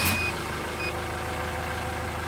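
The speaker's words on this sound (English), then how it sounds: "So let's start the engine and see what happens." A car engine cranks and fires during diagnosis of a P0405 EGR fault, a short burst at the start that settles into a steady, close idle with faint high beeps near the beginning.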